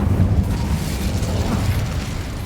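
Incendio fire spell blast in Hogwarts Legacy, a dense, rumbling, roaring burst that fills the whole moment at full loudness without letup.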